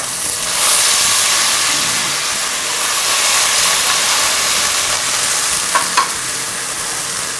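Ginger garlic paste frying in hot oil or ghee gives a steady, close, loud sizzle and hiss that runs unbroken from start to end, with no voices.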